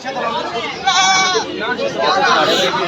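Crossbred goats bleating at a busy livestock market in Baneshwar, Rajshahi, with several wavering bleats close by over a hubbub of people talking and bargaining.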